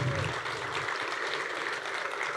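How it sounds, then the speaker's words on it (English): A conference audience applauds a group of sixteen startup investors at a pitch event, a steady dense patter of clapping that fills the room evenly from start to finish. "Please give them a big round of applause."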